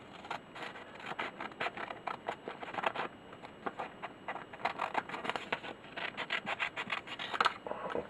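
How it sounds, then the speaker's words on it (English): Scissors cut through thick, folded-over paper while refurbishing a Dragon 32 computer: a series of quiet crisp snips and scraping rubs in an irregular rhythm, faint and close, with no talk. "And if we get a pair of scissors,"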